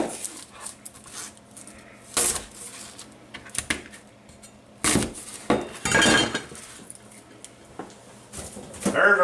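Three onions clatter into a metal cooking pot in a few sharp, close knocks, scattered among other clinks and handling noises of kitchen work.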